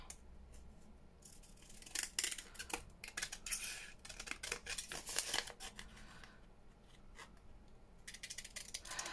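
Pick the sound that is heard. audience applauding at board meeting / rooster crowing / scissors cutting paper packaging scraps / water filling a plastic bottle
scissors cutting paper packaging scraps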